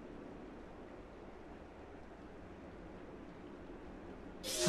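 Water heard from a distance in the video game Rise of the Tomb Raider, a steady, broad rushing wash of moderate loudness with no clear breaks, swelling slightly at the very end.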